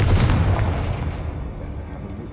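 A Confringo fire-blast spell going off in Hogwarts Legacy, one loud booming explosion that rolls away and fades over a couple of seconds.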